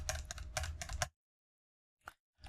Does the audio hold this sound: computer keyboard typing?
yes